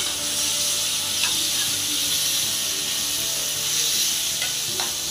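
Ripe chopped tomatoes with ginger garlic paste fry in a pan for crab gravy, giving a steady broad sizzle with a few brief stirring scrapes, close and fairly loud with no voices.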